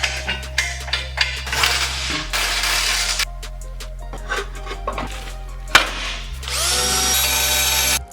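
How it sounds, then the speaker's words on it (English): A power drill boring a hole through a Jeep TJ bumper, a loud steady motor whine that cuts out and restarts, with metallic clinks and tool handling between runs. "now we drilled a hole on the bumper"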